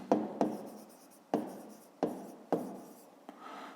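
A pen scratches across paper while working a fifth-grade maths exercise, a series of short strokes that each start with a tap then trail off, close and quiet with no talk.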